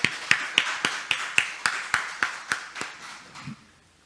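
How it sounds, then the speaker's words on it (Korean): A church congregation in Naju claps together in steady unison, each sharp clap ringing out at an even pace and slowly fading before the claps stop and the room falls quiet. "좋으신 우리 아버지 하나님께 영광의 박수를 드리겠습니다"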